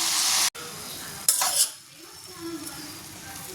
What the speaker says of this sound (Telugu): ఇప్పుడు మనం అంతా కలిసేలాగా గరిటెతో కలుపుకోవాలి.